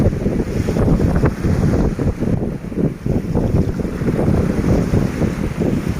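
Strong wind gusts over rough water out at sea on a small fishing trip, buffeting the microphone with a loud, continuous rumbling roar and a wash of waves, with no talking.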